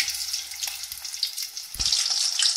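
Food frying in hot oil for a few minutes, a steady bright sizzle and crackle at moderate level, with no talking.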